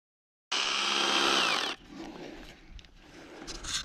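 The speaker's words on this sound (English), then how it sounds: "We made a jig to hold the peeler cores while we drilled it to keep the bit in the center of the post." A drill boring into a wooden peeler core post held in a jig: a loud, whining burst of drilling for about a second, then quieter rattling and handling noises.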